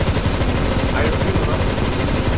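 Dense gunfire in Counter-Strike: Global Offensive, a rapid, continuous crackle of shots that is loud and busy from start to finish and drowns everything else.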